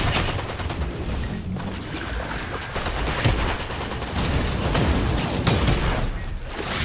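Rapid Fortnite gunshots in a duos match, a dense barrage of loud firing and booms running without pause, no voices over it.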